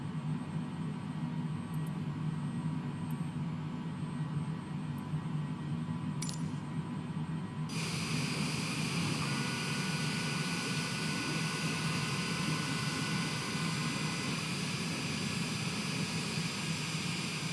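A light aircraft taxis after landing at Cincinnati, its engine a steady, close drone heard from inside, with a few faint clicks early on and a sudden shift to a brighter, louder engine tone partway through.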